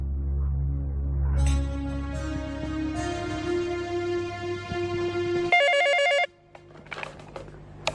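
An old telephone rings in a house, a bright, buzzy electronic bell heard close over a low hum, with a sharp warbling burst near the end before it stops.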